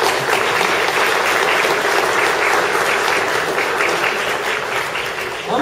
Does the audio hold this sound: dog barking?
no